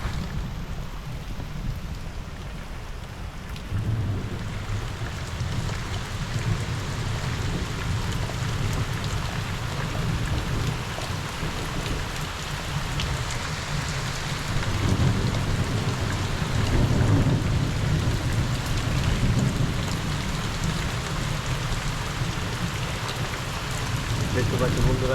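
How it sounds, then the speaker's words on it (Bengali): Heavy rain pours steadily and loudly on surfaces, a dense continuous wash with low rumbling thunder underneath, swelling somewhat midway and holding strong throughout. "মানে খুবই জোর বৃষ্টি পড়ছে"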